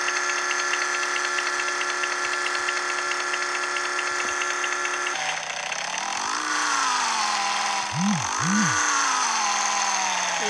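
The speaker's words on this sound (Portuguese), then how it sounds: "Olha o corte de giro verdadeiro aí" A Yamaha XJ6 motorcycle in a Brazilian riding video game drones loudly at high revs against the limiter, a steady buzzing engine tone that dips briefly and then climbs again.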